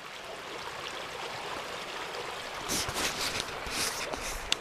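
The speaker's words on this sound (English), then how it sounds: "at least we got running water" A small stream runs through snow and ice in winter, giving a steady close rushing and trickling wash with a few brighter splashes in the second half and no talk.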